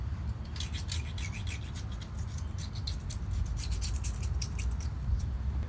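Steady scraping and rubbing as engine mating surfaces on a CJ5 Jeep are cleaned for RTV, a continuous rasping texture with faint scratchy strokes, close and fairly quiet.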